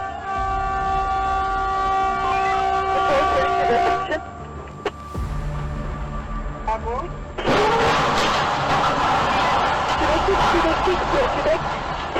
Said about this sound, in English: South Africa's Durban police dashcam captures train crashing into trailer.